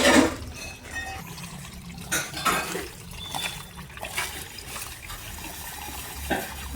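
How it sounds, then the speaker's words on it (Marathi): Tap water runs steadily in a home kitchen during paratha making, a close, continuous splashing rush with small clatters and surges throughout. "असं वाहतं पाणी करते"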